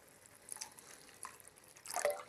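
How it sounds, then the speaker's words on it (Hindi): About a cup of water is poured into a pan of egg and pea curry, giving faint, brief splashes and drips in short bursts, the last one the loudest. "अब इसमें 1 कप के करीब पानी डाल लेंगे।"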